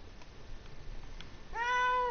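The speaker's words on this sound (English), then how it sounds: "This cat. Shut up" A cat gives a single clear, close meow that rises and holds near the end, after a stretch of quiet background noise.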